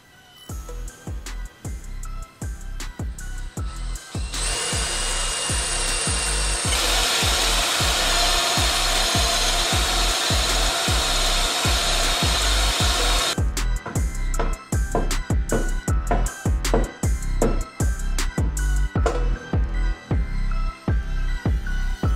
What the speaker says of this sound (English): use this special drill bit to cut a circle